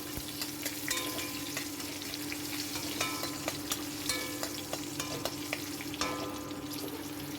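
Green chillies and black cumin sizzle in oil alongside fried hilsa fish, a continuous crackling fry with occasional sharper pops and light stirring clinks, heard close and alone.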